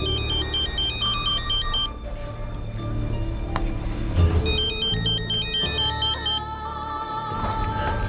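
A mobile phone rings with an incoming call, its electronic ringtone repeating in loud, patterned bursts over a steady background hum, and nobody speaks.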